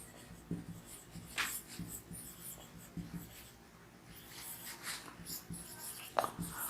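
Marker or chalk scratching on a board as a physics teacher writes, a handful of faint, short strokes with soft breathing in a quiet room.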